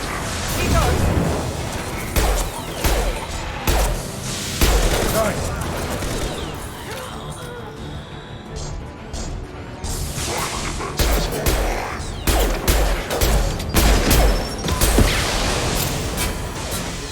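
Impact shot firing and exploding in Mass Effect 2, heard as repeated loud blasts and gunfire bursts, with a quieter stretch in the middle, over nearly continuous game combat noise and talk.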